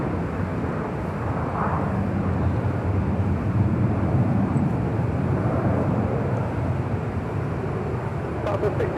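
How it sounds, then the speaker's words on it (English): American Airlines 787-8 Dreamliner arriving at LAX, heard as a steady, moderately loud jet engine rumble from a distance that holds throughout, with a few faint clicks near the end. "American Airlines Flight 566 coming in from Philadelphia. 787-8 Dreamliner, next arrival"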